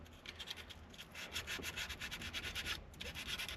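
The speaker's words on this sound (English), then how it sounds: "The grit level is 240. Take a little bit off there," Hand sanding with 240-grit sandpaper during a steering wheel replacement on a 1990 Toyota Space Cruiser van, a quiet, steady rhythmic rubbing of quick back-and-forth strokes with a brief pause near the end.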